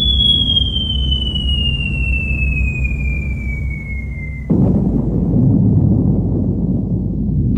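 An atomic bomb explosion sound effect for the Little Boy detonation: a long, steadily falling whistle gives way abruptly to a loud, sustained roaring rumble of the blast.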